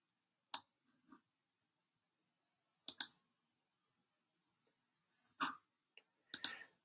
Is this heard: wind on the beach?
no